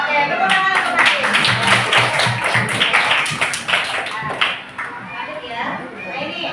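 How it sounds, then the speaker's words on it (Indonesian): A classroom group claps for a participant, the clapping mixed with children's voices and chatter, with sharp taps standing out and the sound thinning toward the end. "Oke, tepuk tangan untuk Hatim."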